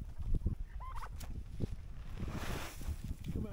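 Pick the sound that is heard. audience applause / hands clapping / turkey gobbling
turkey gobbling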